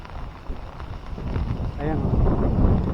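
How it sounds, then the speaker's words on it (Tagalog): Gusty wind buffets the microphone at Bonuan-Tondaligan Beach in Dagupan, a steady low rumble of moving air that swells louder toward the end, with brief voices in the background. "Oh, malakas ng hangin."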